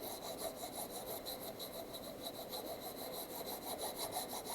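Steady back-and-forth rasping of a file along the bevel edge of a plexiglass drypoint printmaking plate, close and rhythmic with even strokes and no talk.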